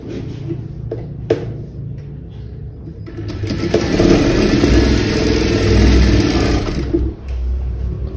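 A sewing machine runs steadily while stitching a blouse seam, with a few short bursts at first and then a long, loud continuous whir near the end.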